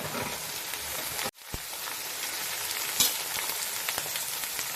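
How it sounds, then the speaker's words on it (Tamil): Carrot, beans and cabbage sautéing in oil in a kadai for mutton fried rice, a steady crackling sizzle broken by a brief gap and a single knock of the ladle. "கேரட் பீன்ஸ் போட்டு நல்லா வதக்கிடுங்க"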